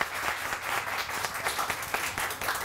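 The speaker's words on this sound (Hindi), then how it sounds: "बहुत सारी तालियां" Studio audience on a morning television show clapping for a performer, a busy patter of many hands at moderate level with a few sharper individual claps standing out.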